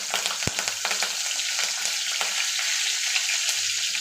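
Cumin seeds, asafoetida and curry leaves sizzle in hot oil in a continuous bright crackle, with one sharp pop near the start and faint spoon scrapes, no voices.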